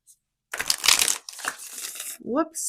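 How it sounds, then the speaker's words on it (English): Tarot cards being shuffled by hand, a dense papery riffling and crinkling burst lasting under a second, followed by softer shuffling and a short vocal sound near the end. "Let me shuffle these up"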